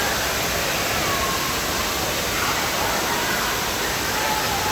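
Rushing water at an indoor resort water park fills the space with a loud, steady broadband roar, unbroken from start to finish, with faint voices barely showing beneath it.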